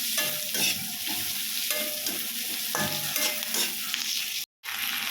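Egg manchurian with three sauces frying in a pan gives a continuous close sizzle, with rhythmic spatula scraping strokes throughout and a brief dropout near the end, with no talking.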